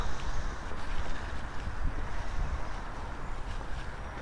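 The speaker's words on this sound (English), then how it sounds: "We've got a bit of a north wind blowing still." A chilly north wind blows outdoors beside a boat being painted, making a loud, continuous rumble and buffeting against the microphone from start to finish, with no one speaking.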